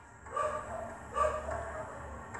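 A Mutha Dog in the mobile game Pocket Survival barks twice in quick succession, sharp and close over a low background hum.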